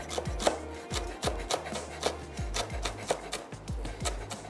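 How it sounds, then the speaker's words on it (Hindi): A knife roughly chops fresh green coriander on a board, giving a quick, even run of close, crisp thuds, about three to four strikes a second. "मैं इसमें ऐड करने जा रही हूँ थोड़ा सा चॉप्ड हरा धनिया, चलिए ये ले लेते हैं और इसको हम कर लेंगे रफली चॉप।"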